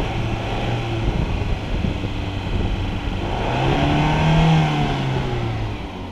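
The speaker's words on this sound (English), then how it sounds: "the lifter, it still makes a little bit of noise, but it's pretty much non-existent" Car engine running after a lifter flush with diesel fuel, a steady loud hum that swells slightly as it revs mid-clip, with a faint lifter tap barely noticeable underneath; no speech.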